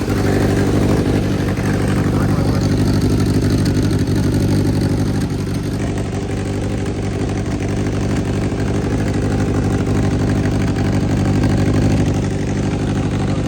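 A 1990s Ducati motorcycle engine runs steadily and loudly up close, a dense continuous mechanical drone with no speech over it.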